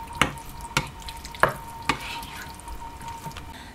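Tomato slices being stirred into a homemade gluten-free pasta sauce in a pan, giving a few sharp scraping clinks of the utensil against the pan over a low, steady simmer.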